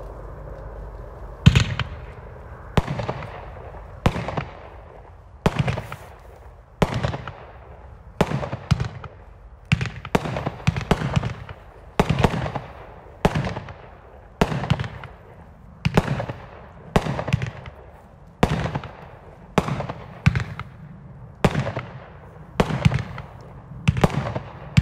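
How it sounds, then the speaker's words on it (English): A consumer fireworks cake fires a long run of shots, each a sharp launch pop followed by crackling bursts of vibrant peonies fading into red lace, evenly spaced and moderately distant, with no voices. "It is super vibrant peonies that fade to an electric red lace."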